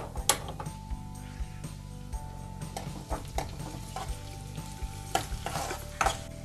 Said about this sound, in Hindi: इसके लिए हमें चाहिए थोड़ा सा ऑयल और इसमें हम थोड़ी सी प्याज डालकर गोल्डन ब्राउन होने तक भूनेंगे।